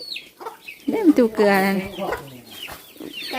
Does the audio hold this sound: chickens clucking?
yes